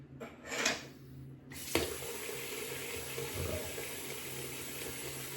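Hot water runs steadily from a tap over a straight razor at a sink, with a brief splash and clink before the flow opens into a continuous hiss.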